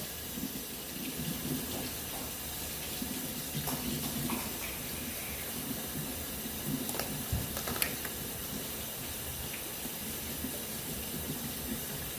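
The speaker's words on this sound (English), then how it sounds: "I'm going to rinse it with cold water." Cold tap water runs steadily into a strainer holding a cup of quinoa. It gives a soft, continuous hiss and splash for twelve seconds, with a few brief clatters along the way.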